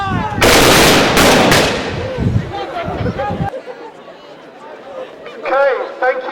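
A loud volley of Civil War reenactment muskets goes off in a couple of sharp bursts that echo and trail away, followed by a quieter stretch with people talking nearby.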